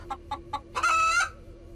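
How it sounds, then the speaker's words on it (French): A cartoon chicken riding as co-pilot in a turtle dragster gives three quick clucks followed by a longer, louder squawking cry, close and clear over a faint low hum. "Et ton copilote est un poulet."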